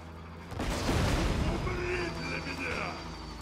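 Explosions in the video game Borderlands 2, a heavy boom rolling into rumbling blasts and crackling debris, loud and close with a voice talking over the din.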